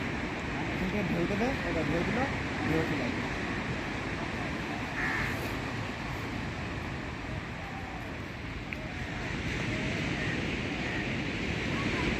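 Sea waves wash steadily onto Digha beach in daytime, a broad continuous surf roar mixed with wind buffeting the microphone, with fishing boats lined up nearby and faint voices and distant activity in the background.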